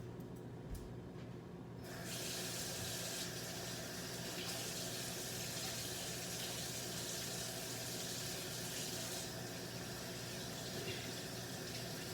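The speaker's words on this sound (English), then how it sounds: "So the first thing I'm going to do is wash my hands." A kitchen tap runs steadily while hands are washed before cooking, a soft, continuous rush of water that starts after a quiet moment and continues to the end.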